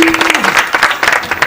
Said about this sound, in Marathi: वाह, एकदा टाळ्या वाजवा श्रवण करता.